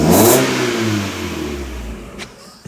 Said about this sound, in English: Let's get an exhaust clip really quick.